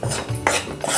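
Gram flour roasting in a pan for besan ladoo is stirred continuously with a metal spoon, producing several quick, close scraping strokes against the pan, with no one speaking.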